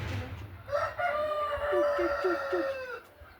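Araucana chickens on a farm: one rooster crows a long, drawn-out call close by while hens cluck softly in a quick run of four notes beneath it.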